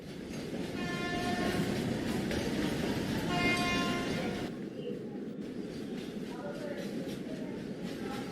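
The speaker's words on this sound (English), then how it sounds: "The train drew slowly into the station." A train rumbles steadily, with a long horn-like tone sounding over the noise before it drops to a quieter, continuing roll.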